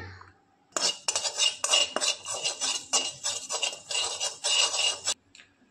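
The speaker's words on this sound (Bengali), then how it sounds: "এই মশলাগুলোকে একটু হালকা আঁচে নেড়ে নিয়ে একটু ফ্রাই" Whole spices including cinnamon being stirred and dry-roasted in a pan over low heat, a steady run of metallic scraping and clinking of a utensil against the pan, close and fairly loud, with no talk.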